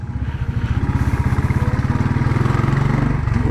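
A single-cylinder Royal Enfield motorcycle engine thumps steadily at close range amid many Royal Enfield bikes at a rider gathering in Goa, a rapid, even rhythmic pulse that holds loud and steady throughout.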